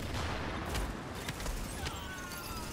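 Dense gunfire from a multiplayer shooter game, a continuous barrage of overlapping shots and booms that fills the whole stretch at a steady, loud level.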